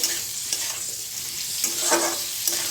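Cauliflower florets fry in hot oil with a steady, close sizzle, and occasional stirring scrapes and taps of a spoon break through.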